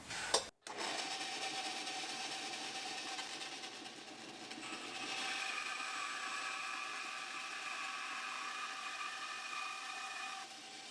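A steady mechanical whine of a bandsaw runs continuously, its pitch shifting slightly midway as the blade works through a wooden pen blank.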